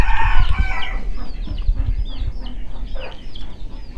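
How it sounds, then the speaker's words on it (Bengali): Broiler chicks in a small farm pen with feed, water and a light, giving repeated high, thin chirps over a low, bumpy background rumble, fairly close and without talk. "এখন আমাদের যে কক মুরগির বাচ্চা বা ব্রয়লার মুরগির বাচ্চা সেগুলোকে দেখাবো।"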